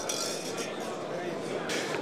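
Wine glasses clink together in a group toast at the Lombardy pavilion of the Vinitaly 2014 wine fair, a few bright chinks rising over dense crowd chatter and people talking nearby.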